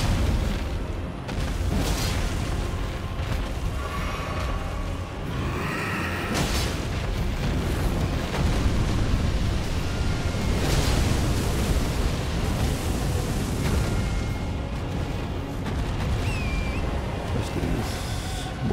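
Dragon firing attacks in Elden Ring: Shadow of the Erdtree at the Dragon's Peak, a series of heavy explosive booms and rushing bursts layered over a constant, rumbling battle backdrop.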